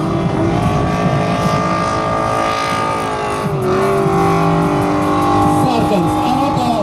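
Drift car number 10 sliding through a drift round of the Latvian Drift Cup in Jelgava, pouring out red smoke: loud engine roar with shifting revs and tire squeal, close and continuous, while a commentator talks over it.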